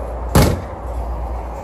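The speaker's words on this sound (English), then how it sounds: "I do like that they put slam latches on the cargo doors though" The slam latch on the cargo door of a Jayco Eagle HT 284BHOK travel trailer shuts with a single loud, sharp bang, followed by a steady low background hum.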